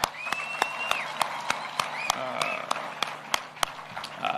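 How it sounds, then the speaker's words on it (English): A crowd at a national address by Kenya's president claps in a slow, spaced rhythm of sharp individual claps over a murmuring room, with a voice and a whistle-like tone heard faintly underneath. "Can we clap for those girls?"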